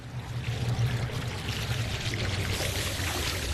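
Water waves splashing on a lush alien moon in the video game No Man's Sky, a steady loud wash of surf and spray that runs unbroken from start to end with no voices.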